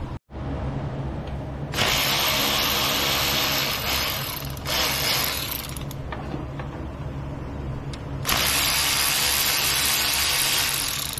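A power tool works the engine bolts on a 2014 Nissan Versa during spark plug and ignition coil removal, giving a loud, close, continuous ratcheting whir that stops briefly and restarts in several long bursts, with no talk.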